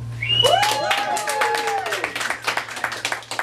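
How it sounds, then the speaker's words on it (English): A crowd at a storytelling show applauds, steady scattered clapping from many hands, with cheers and a voice speaking over it near the start. "I got applause for just saying my name, Jefferson"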